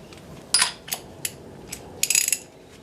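Ratchet wrench removing spark plugs, several short bursts of rapid metallic clicking, close and distinct, separated by brief pauses.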